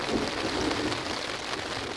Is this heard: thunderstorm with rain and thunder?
yes